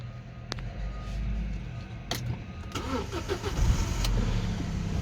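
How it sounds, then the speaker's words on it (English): A 2006 Audi A4 with high mileage cranks briefly and catches, its engine starting up close by and settling into a steady idle over a few seconds. "Car starts up."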